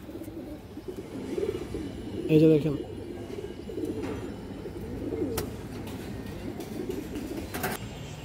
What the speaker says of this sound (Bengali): এই যে দেখেন অনেক বড় সাইজের কবুতর